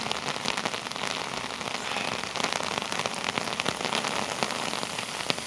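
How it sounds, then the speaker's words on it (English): Heavy, torrential rain pours steadily onto a city street in Norwich, Connecticut, a dense continuous hiss with scattered sharper drops, close and unbroken throughout. "because of the torrential rain that's coming down right now"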